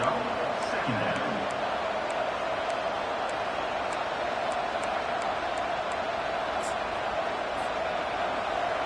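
A steady, dense roar of a large college football stadium crowd fills the whole stretch, loud and unbroken, with faint rhythmic claps or bounces and a voice under it.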